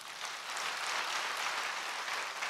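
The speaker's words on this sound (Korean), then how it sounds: "박수 한번 쳐주시죠." A church congregation claps together during a Korean worship service, producing a soft, even wash of applause that is fairly distant and sustained throughout.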